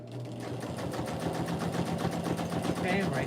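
A sewing machine runs steadily to finish the stitching on a key fob, giving a fast, even mechanical rattle close by.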